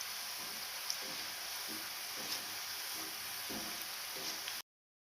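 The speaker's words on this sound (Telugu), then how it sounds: "ఇలా ఎర్రగా అయ్యే వరకు వేయించుకోవాలండి వీటిని." Samosa filling frying in a pan until reddish-brown, a steady broadband sizzle with soft periodic stirring scrapes, continuous and fairly close, with no talking.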